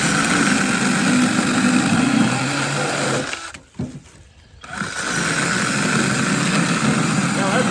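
A cheap mini chainsaw cuts through a 2-inch log, a loud, buzzing, steady motor whine that briefly drops off mid-cut and then resumes at full speed, heard up close.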